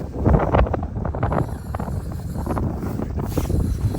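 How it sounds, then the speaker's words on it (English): Snowy outdoor wind buffets steadily for the whole stretch, a loud, rough low rumble that swells slightly at the start and then holds, with no voices. "it's a little windier than I thought it was"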